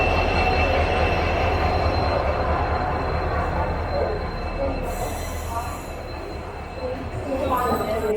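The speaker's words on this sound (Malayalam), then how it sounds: "ഫൈനലി ഇത് നമ്മുടെ ട്രെയിൻ കയറി വരുന്നുണ്ട്." A train rolls in with a deep continuous rumble and high metallic wheel squeals, the sound easing slightly as it slows, faint voices nearby.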